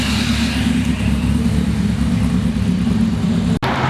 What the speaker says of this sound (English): Listen to this Pro Charger on the C5,